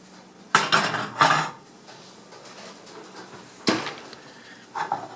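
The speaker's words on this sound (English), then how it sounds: "I can start breaking it up with a spoon" A spoon scrapes and cracks at dried sodium acetate in a dish, giving several loud, separate crunching bursts with quiet pauses between them.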